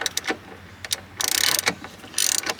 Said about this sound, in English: the one last thing we have to do is take this screw out of this side